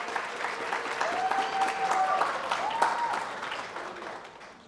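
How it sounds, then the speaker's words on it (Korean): Steady applause from an audience at a sermon contest, dense clapping throughout that slowly fades toward the end, with faint voices or tones beneath. "힘찬 박수 다시 한번 부탁드리겠습니다."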